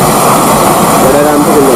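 Gas welding torch flame roaring steadily as it heats a nut to loosen it, a loud continuous hiss and rush with no pauses for the whole stretch, with a voice talking faintly underneath.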